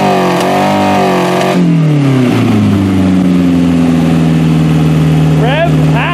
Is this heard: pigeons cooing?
no